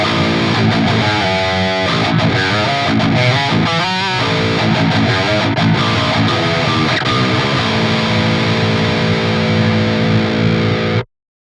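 Modern metal/djent electric guitar goes through an amp sim with an impulse response cabinet loaded, giving tight, heavily distorted chugging riffs followed by a long ringing chord that cuts off abruptly, loud and up front.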